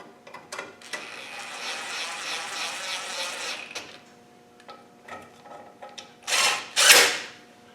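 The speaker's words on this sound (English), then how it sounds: "I'm just going to whiz them down with a gun for now." A power gun runs bolts down during a Land Rover 300Tdi engine rebuild. It gives a few seconds of whirring, ratcheting rattle, followed by scattered metallic clicks and two louder bursts near the end.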